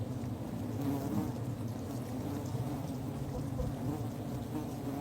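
A dense, steady buzzing of many bees fills the whole stretch, close and continuous without pause.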